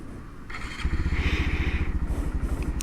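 A 2019 Honda Monkey motorcycle cranks with a brief starter whir, then its engine catches and settles into a close, loud idle with a rapid, steady thumping pulse and no voices.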